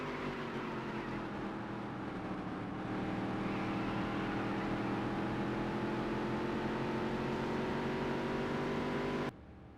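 Race car engine in the Dirt to Daytona racing game, a steady sustained drone with rising harmonic pitch as it accelerates, loud and continuous before cutting off abruptly near the end.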